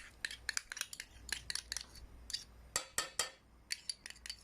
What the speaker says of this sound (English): to that I am now going to add my tomato paste